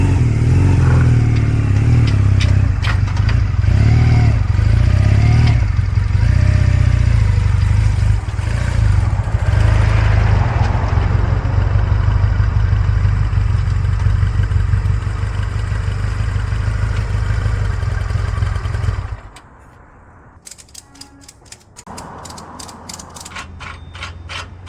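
A motorcycle engine idles and runs steadily while being loaded onto a Haulmaster 400 lb carrier, with mechanical clunks and ratcheting strap sounds, close and loud, then the engine cuts out near the end leaving sparse clicks.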